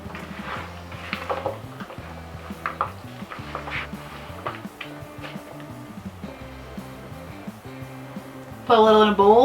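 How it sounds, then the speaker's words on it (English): A spoon folding potatoes, chickpeas, walnuts, broccoli and maple mustard dressing together in a bowl, with soft repeated scrapes and clinks under background music, ending in a louder burst. "Now we're gonna fold all the ingredients together."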